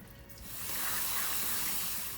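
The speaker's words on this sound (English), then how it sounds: "Then, wash the beans once again," Soaked beans for feijoada are rinsed under running tap water, a steady close hiss of flowing water that swells in after a brief quiet start.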